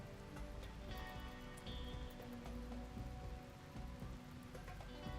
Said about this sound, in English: Okay, the rain finally happened.